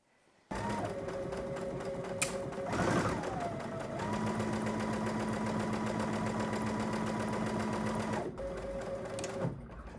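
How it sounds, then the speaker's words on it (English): A sewing machine edge stitches a pocket onto a cardigan, humming steadily at close range with short pauses and changes in speed between runs of stitching. "we can go ahead and edge stitch along the side, the bottom, and up the other side"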